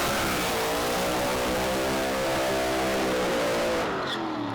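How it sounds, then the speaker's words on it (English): A Pro Slammer drag racing car does a burnout with a loud, continuous, high-revving engine roar and tire noise that holds at full volume, then eases off at the very end. "he really had that throttle nailed in the burnout"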